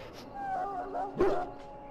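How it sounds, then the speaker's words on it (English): An injured dog in a fantasy role-playing game gives soft, thin whimpers and whines, with a short louder yelp partway through, quiet against a hushed background. "Now I can treat the dog properly, poor fella."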